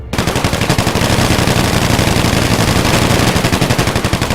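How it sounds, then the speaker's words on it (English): Sustained automatic machine gun fire in a game battle, a dense, loud, rapid stream of shots rattling continuously throughout without pause. "The blue team fires onto the red team with their machine guns, shooting them in the backs."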